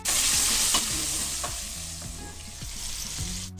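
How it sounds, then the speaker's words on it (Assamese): Potatoes seasoned with turmeric and salt sizzle in hot oil in a pan, with a steady, bright frying hiss and a few scraping strokes of a spatula as they are stirred, and nobody speaks. "এইখিনি এতিয়া ভালদরে লড়াই দিম, আর অলপ রঙচুয়া পৰালৈকে ভাজি লম।"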